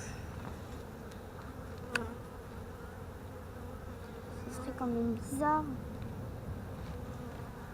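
Honeybees buzz steadily around a beehive during a spring hive inspection, a dense, close insect hum with a few louder passes. People talk quietly in French over it.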